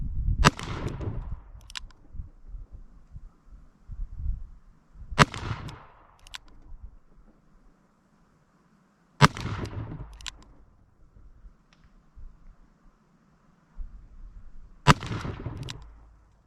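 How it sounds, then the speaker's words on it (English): A Smith & Wesson Model 67 revolver fired single action at 25 yards, four loud sharp shots spaced several seconds apart, each with a short echoing tail and quiet outdoor background between. "that is 6 rounds fired off"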